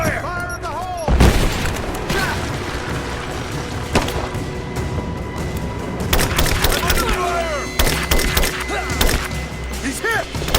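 Gunfire and blasts ring out in a Rise of the Tomb Raider firefight, with a heavy thump early on and repeated sharp bangs and clatter through the scene, layered over game music and shouted voices.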